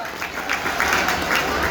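A crowd of audience members at a Janmashtami celebration in Malad, Mumbai, claps in a dense, steady round of applause. The sound is fairly loud and continuous, and a voice may be faintly audible beneath it.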